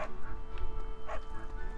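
Dog barking in the Fire Emblem: Three Houses video game, two short yips over a steady hum of game music and ambience.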